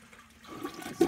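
A Mansfield Alto toilet flushes, a quiet rushing of water building gradually before a louder surge of draining water near the end, heard close up with no voices.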